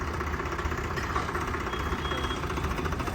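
A Swaraj 735 tractor engine idles at a steady, even pace, with a continuous chugging drone heard nearby and alone for a few seconds.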